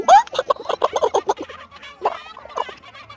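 Chickens in the pirate video game Sea of Thieves cluck in a quick run of short, choppy squawks that spill out close and fairly loud, then come back in a couple of sparser bursts.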